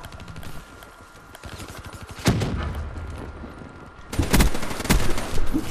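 Rapid gunfire from a Call of Duty Black Ops 3 multiplayer match on the Nuketown map, steady bursts of automatic shots with louder booming volleys near the middle and end.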